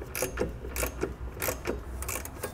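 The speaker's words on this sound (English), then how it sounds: "using a 17mm socket, I'm going to snug up all my hardware" A ratchet fitted with a 17mm socket snugs up trailer hitch bolts on a 2017 Kia Soul, giving quiet, repeated clicking strokes in an even rhythm with no talk.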